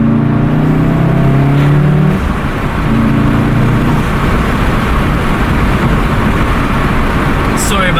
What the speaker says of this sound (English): so I can just open it up a little bit for you guys